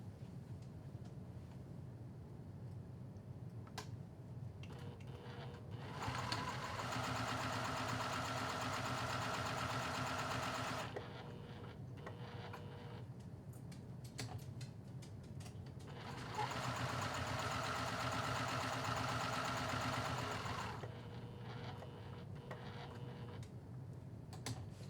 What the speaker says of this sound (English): take this back over to the sewing machine, and I'm going to stitch the sides and the bottom